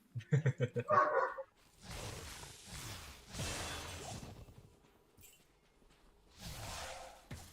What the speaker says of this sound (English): if you guys can hear my dog barking